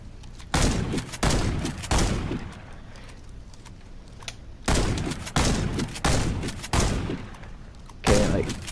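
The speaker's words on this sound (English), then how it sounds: "You go to this mannequin, and then you shoot him until he has a mustache and a mouth" Gunfire from the video game Warface as a training mannequin is shot: several loud, sharp bursts of rapid shots in separate volleys, with short pauses between them.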